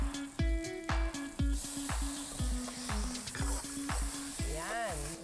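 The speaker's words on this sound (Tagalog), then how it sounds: "Igigisa muna ang bawang," Garlic, onion and tomato sautéing in a pan for a Kapampangan dish, a close, steady sizzle overlaid with a series of rhythmic humming tonal pulses and a brief warbling sound near the end.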